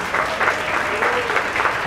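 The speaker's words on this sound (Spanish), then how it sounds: "Un aplauso fuerte, fuerte," Wedding guests at a reception clap together in steady, loud applause that fills the room, with no talking over it.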